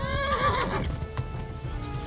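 Horse galloping and neighing in the video game Kingdom Come: Deliverance, with rapid clip-clop hoofbeats and a loud, wavering whinny early on, all close and without speech.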